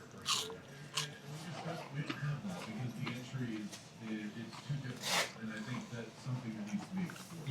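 Someone bites into and chews crispy fries at a restaurant dinner, with crunching bites and chewing breaking out between stretches of conversation, close and moderately loud.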